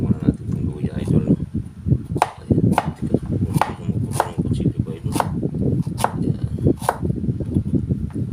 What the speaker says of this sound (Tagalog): Iwain lang muna natin itong luya idol.